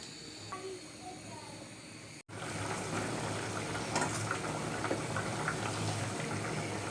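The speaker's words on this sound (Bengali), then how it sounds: "এই তো আমার চনার ডাল ফুটে গেছে আর চিচিঙ্গাও অনেকটা সিদ্ধ হয়ে এসেছে" A pot of chana dal with snake gourd bubbles and hisses on the stove, the steady boiling rising after a brief cut and continuing fairly quietly and close.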